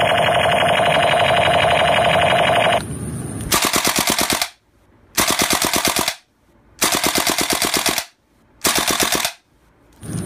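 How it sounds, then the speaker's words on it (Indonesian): Video game AK-47 assault rifle fire comes in four loud, rapid automatic bursts separated by short silences, following a sustained electronic tone at the start. "Wah, senapan serbu AK-47."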